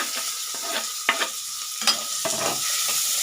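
Onion, green chilli and ginger sautéing in a hot pan for egg bhurji, with a steady close sizzle broken by several sharp scrapes and stirs of a spoon against the pan.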